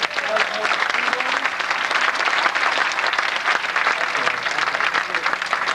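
A studio audience at the Late Show with David Letterman applauds loudly and continuously, a dense wash of clapping that holds steady throughout.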